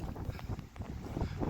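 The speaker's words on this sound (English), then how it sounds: "It's really extremely windy." Strong wind buffeting a microphone on a hillside during a hunt, a loud low rumbling roar with gusty swells.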